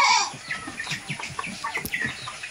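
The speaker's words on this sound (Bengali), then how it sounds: "এগুলো দেখেন লোকাল মুরগি" Local chickens on a Bangladeshi chicken farm cluck and chatter in a busy group, many short overlapping clucks and calls close by with steady barnyard noise.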